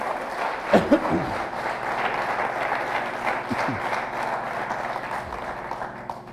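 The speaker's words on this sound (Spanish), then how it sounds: "Dale un aplauso al Señor." Church congregation clapping for the Lord, a sustained, moderately loud wash of applause with a few brief vocal sounds over it.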